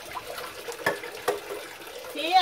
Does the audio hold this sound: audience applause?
no